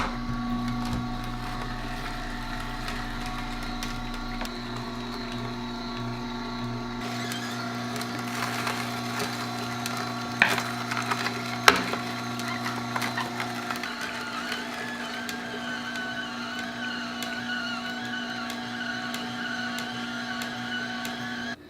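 An Omega 8006 juicer runs steadily, a continuous motor hum with grinding and occasional crunching knocks as it presses ginger, turmeric and lemons.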